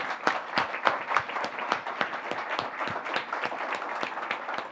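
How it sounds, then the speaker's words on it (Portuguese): An audience at a Chinese culture week lecture applauds in a steady patter of many hands clapping, moderately distant and sustained throughout. "peço uma salva de palmas"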